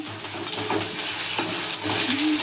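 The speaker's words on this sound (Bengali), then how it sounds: "আলু দিয়ে দিলাম আলুটাকে একটু নাড়াচাড়া করে নেব ভালো করে" Potatoes stirred in a frying pan for a fish, cauliflower and potato curry, sizzling steadily with soft scraping and clinks of a spoon against the pan, close by and without talk.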